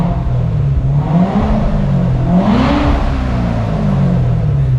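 A Corvette Z06 sitting on ramps in a garage revs, a steady low engine drone rising to one brief swell and settling back, loud and close with no talk over it.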